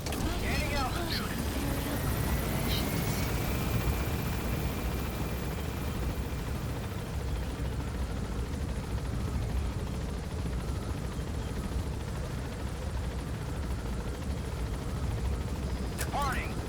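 A helicopter lifts off in the video game Metal Gear Solid V, a steady, dense rotor and engine roar that fills the whole stretch at constant loudness, with faint radio-style voices over it.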